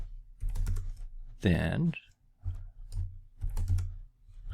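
Quick clattering keystrokes on a computer keyboard come in bursts at close range, mixed with someone talking over and between them.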